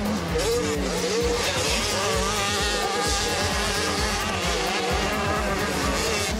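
Motorcycles racing on the Plomion circuit in a 2013 Burgundy-Picardy league round, engines revving and whining loud and continuous with shifting pitch as bikes pass close, with speech faintly mixed in.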